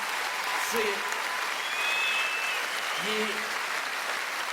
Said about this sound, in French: J'aimerais ça qu'on lui redonne une autre main d'applaudissement.